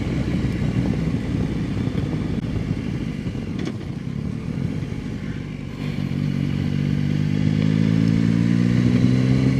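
Motorcycle engine running loud and steady nearby as a rider pulls a wheelie, the drone thickening into a stronger, rising rev during the final few seconds, with no voices.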